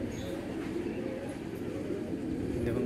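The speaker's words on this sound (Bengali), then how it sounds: "এটা দ্বিতীয় জোড়ার মাদি পায়রা।" A young female Golden Eyes pigeon coos softly and low, a steady murmur close by under faint background noise.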